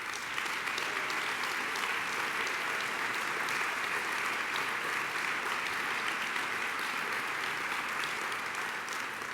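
A large audience at the 2014 Americans for the Arts annual convention claps for volunteers and state captains, a dense, even wash of applause that stays steady throughout.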